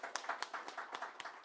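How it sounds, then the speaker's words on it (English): Conference audience clapping for a speaker, a brief run of quick, fairly faint claps from a handful of hands, evenly spaced and heard alone without talk. "Let us give her another round of applause."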